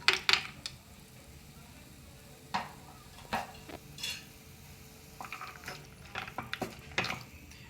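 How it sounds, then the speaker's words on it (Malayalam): Cashew nuts are stirred and sautéed in a pan for butter chicken, a spoon scraping and clinking against the metal in scattered bursts over a faint, steady sizzle, no voices. "ഇതെല്ലാം കൂടി ഒരു ചെറിയ ഗോൾഡൻ ബ്രൗൺ കളറാകുന്നത് വരെ ഒന്ന് ഇളക്കിയെടുക്കണം, വഴറ്റിയെടുക്കുക"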